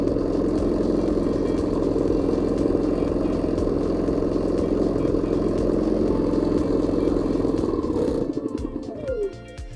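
Hyundai HHY 9050Si inverter generator running with a steady, loud, droning hum and rhythmic chug, close by, until it winds down and fades in the last two seconds.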